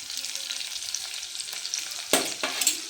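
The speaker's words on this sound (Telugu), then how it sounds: "దంచి పెట్టుకున్నటువంటి తెల్లగడ్డ పచ్చిమిర్చి పేస్ట్ వేసేద్దాం" Crushed garlic and green chilli paste hits hot oil in a pan, a loud close steady sizzle with a sharper burst of frying as it is stirred.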